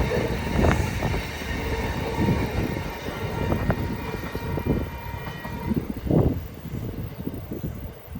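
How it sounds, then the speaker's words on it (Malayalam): A train rumbles past close by, with rhythmic clatter of wheels over the track rising and falling throughout. "ട്രെയിൻ വരുന്നു അതേ ട്രെയിൻ വന്നു"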